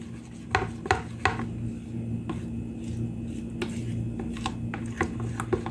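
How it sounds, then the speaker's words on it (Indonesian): A spoon or whisk scraping and knocking in a bowl while stirring thick yellow sweet potato batter for kue talam, with soft rubbing strokes and occasional sharp taps against the rim over a low steady hum. "kemudian aduk sampai tercampur rata"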